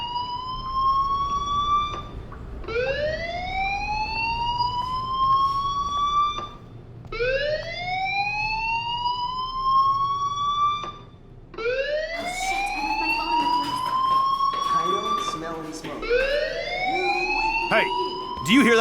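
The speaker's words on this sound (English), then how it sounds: "do you hear that fire alarm?" Fire alarm in the video game Life Is Strange Remastered, with loud repeating rising electronic whoops that sweep upward several times in a row, then overlap with clattering and busier noise toward the end.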